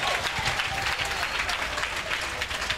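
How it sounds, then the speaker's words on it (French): A crowd at a French-language prophetic revelation service applauding to acclaim Jesus, dense continuous clapping that is loud and close throughout, with some voices mixed in. "On acclame Jésus."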